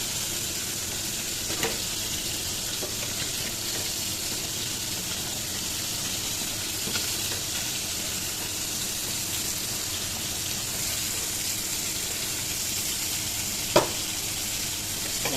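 Continuous hissing sizzle of bottle gourd frying in a pressure cooker, with an occasional sharp clink of a utensil; no talking.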